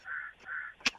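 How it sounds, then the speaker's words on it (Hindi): A crow gives two short, nasal caws in quick succession, fairly faint, followed by a brief sharp click. "पीछे से तो कौआ बोल रहा है"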